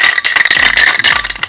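An empty spray paint can being refilled is shaken hard, its mixing ball rattling in a fast, loud, steady rhythm close by, with no talking.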